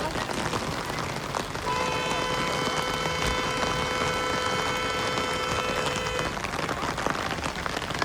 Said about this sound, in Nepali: पानी पर्नाले हेर्नु साथीहरू